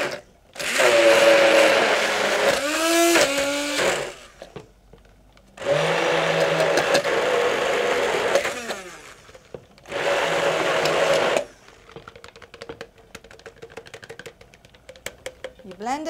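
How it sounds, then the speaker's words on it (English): A kitchen blender purees chickpea soup in three loud whirring bursts, each a few seconds long, with pauses between them and a faint clatter after the last. "Let's blend part of the soup."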